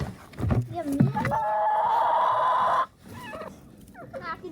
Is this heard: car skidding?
no